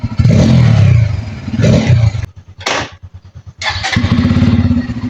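A Bajaj N250 motorcycle engine runs loud and close, revving hard, then cuts to a brief low chugging idle with a sharp burst before roaring back up into sustained revving.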